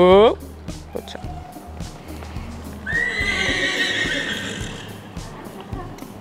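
A horse whinnies loudly near the start and again later in a long neigh during liberty dressage training, with steady hoof clip-clop throughout and a person speaking.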